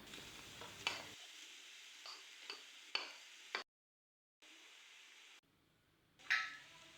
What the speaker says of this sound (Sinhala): ඊළඟට ඔක්කොම හොඳට මික්ස් කරගන්න.